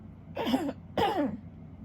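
Two throaty rasping throat clearings in quick succession, close and fairly loud, with quiet pauses around them.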